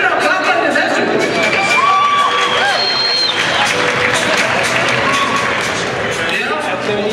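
An indoor crowd at an Icelandic stallion show applauds and cheers in a loud, sustained wash of clapping, with an announcer talking over it.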